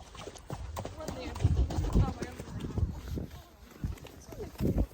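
Hooves clop unevenly on a dirt trail as six horses walk on a trail ride, with people talking over the plodding steps.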